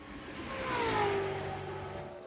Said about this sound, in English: As the sound of that Oldsmobile goes down the front straight